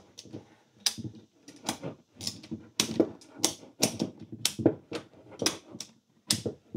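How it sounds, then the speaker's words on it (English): Ratchet cranked in short bursts to bend curved wood molding, giving a run of about a dozen sharp clicking strokes in an uneven rhythm, close and clear with no talking. "I'm going to attempt to ratchet it up as far as it will go"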